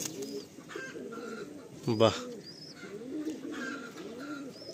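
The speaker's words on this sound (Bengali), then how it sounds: "সুন্দর পায়রা।" Pigeons in a loft give soft, repeated throaty coos, some overlapping, with a brief higher call and a short spoken exclamation from a person in the middle.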